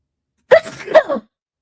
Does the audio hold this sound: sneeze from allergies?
yes